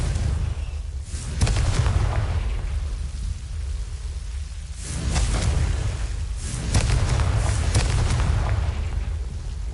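The Confringo explosion spell in the video game Hogwarts Legacy, heard as a few deep, rumbling blasts spread over the clip with a roaring, crackling tail between them and no talking.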